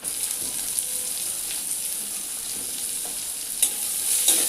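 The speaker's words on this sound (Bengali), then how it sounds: "এবার আমি কুচানো পেঁয়াজটা দিয়ে দিলাম" Chopped onion goes into a pan of garlic that has already browned for a jackfruit curry, giving a steady, moderate sizzle of frying throughout with a few faint clinks of stirring.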